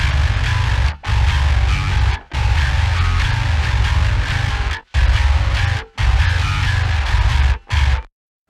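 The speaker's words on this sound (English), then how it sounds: "I pitched up this distorted track, which is just doing the mids basically by 1 octave." A distorted bass track pitched up one octave and carrying mostly mids grinds through stop-start metal riffing, dense and fuzzy with several sharp cuts to silence between phrases, loud and up front.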